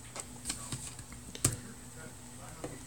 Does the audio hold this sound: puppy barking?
no